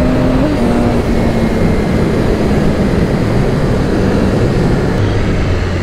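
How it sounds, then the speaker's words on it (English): A Triumph Speed Triple motorcycle engine at full throttle roars in a loud, steady, unbroken drone with wind noise throughout. "That speed triple sounds so good."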